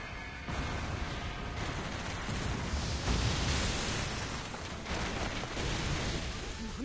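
A massive Hyper Macross cannon fires in the Macross Delta anime film, a sustained, loud, rumbling blast with a broad roar that swells and pulses for several seconds without any voices.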